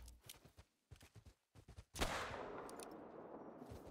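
A single loud rifle shot in theHunter: Call of the Wild, sharp and close, with a long rumbling tail fading out, following a stretch of short choppy sounds.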